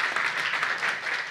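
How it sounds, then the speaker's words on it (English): An audience at an industry and innovation panel event applauds the panel in a short, steady burst of dense clapping. "we thank the panel with an applaud"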